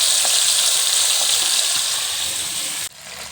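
Fish frying in a pan gives a loud, dense, hissing sizzle that holds steady close by, then cuts off abruptly near the end.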